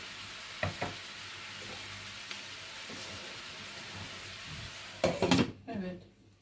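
Chicken and mushroom sauté cooks quietly in a pan with a faint steady sizzle, a few soft utensil taps, and a louder clatter of stirring near the end.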